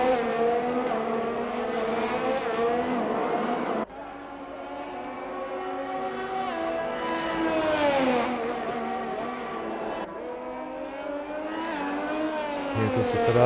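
A Ferrari race car engine screams around Imola in a racing game, its pitch climbing steadily, dropping sharply at two gear changes, then climbing again, loud and close.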